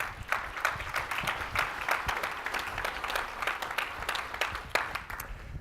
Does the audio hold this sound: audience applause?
yes